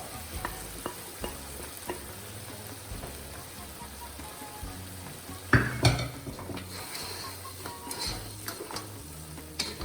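Crab pieces frying with mustard paste and stirred in a pan for a Sri Lankan chilli crab curry, a constant sizzle with scraping and clanking utensil strokes and one loud clatter midway.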